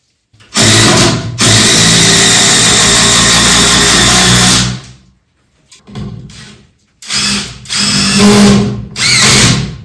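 A power drill drives screws into timber uprights of a half-timbered colombage frame, with one long loud whirring run followed by a pause and then several shorter bursts close by.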